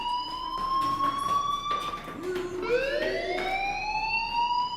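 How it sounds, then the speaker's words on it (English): A fire alarm rings in the video game Life is Strange, a steady, loud electronic wail with rising pitch sweeps, heard alone and continuous throughout. "Hey, do you hear that fire alarm?"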